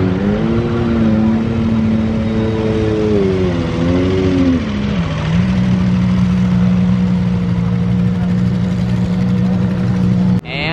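A Gordon Murray T50 supercar carrying three passengers at the Goodwood Festival of Speed gives a loud, continuous engine drone whose pitch wavers and dips once before holding steady to the end.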